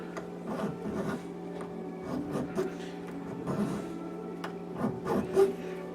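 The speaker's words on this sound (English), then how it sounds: "You can do external corners with the file." A hand metal file rasps over an external corner of a workpiece held in a smooth-jawed vise, rounding it off in a run of short repeated strokes, close and steady with no talk.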